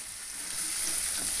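Chopped onions sautéing with salt in a pan for a mushroom masala, a steady close hiss of sizzling oil with no talk.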